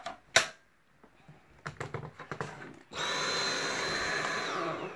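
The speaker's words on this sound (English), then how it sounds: "that's gonna take more than just vacuuming" Vacuum cleaner pulling dust out of a Dell XPS 8300 desktop computer, switching on after some clicks and handling noises and then running as a steady, close, loud whine to the end.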